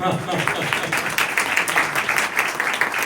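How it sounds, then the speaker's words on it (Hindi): A congregation at a sermon gives Mani a round of applause, dense continuous clapping that holds steady at an even level for the whole stretch. "मानी के लिए भरपूर तालियां बजाएं।"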